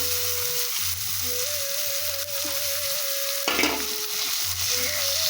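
Egg curry masala frying in a pan with onion, chili, garlic and tomato, a steady loud sizzle running throughout with intermittent stirring scrapes and a sharper burst of hissing midway.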